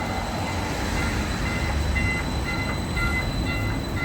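Continuous rumble of the Milwaukee HOP streetcar rolling in, with steady low drone, faint squeals and a few high electronic tones.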